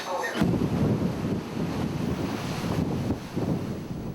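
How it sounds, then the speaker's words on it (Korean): Strong wind buffets the microphone continuously while rough sea waves surge and wash around a ship at sea, a dense, loud roar with swelling pulses and no pauses. "강한 바람과 함께 파도는 점점 거세지고"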